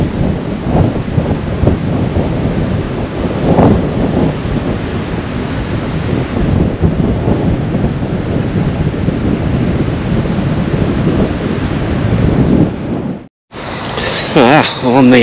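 Steady, roaring coastal wind near the ocean at Station Creek, Yuraygir National Park, buffets the microphone almost continuously, a broad rushing noise that cuts out abruptly near the end before resuming briefly.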